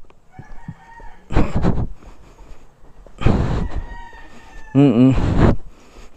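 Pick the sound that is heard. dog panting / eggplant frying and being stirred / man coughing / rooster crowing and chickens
rooster crowing and chickens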